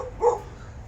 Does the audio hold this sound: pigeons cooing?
no